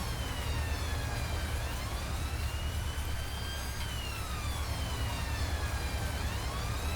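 Wailing police car sirens in a Farming Simulator 19 game sweep up and down continuously over a steady low rumble, several overlapping tones weaving together at constant loudness.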